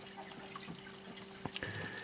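Water siphoning out of a solar-powered off-grid aquaponics grow bed, a soft continuous trickle with scattered drips and gurgles at low level, no voices.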